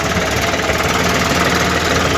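Swaraj 744 FE tractor engine hauling a full sand load of about ten tons in third gear, a steady, loud, continuous diesel drone with a rough knocking pulse that holds constant throughout.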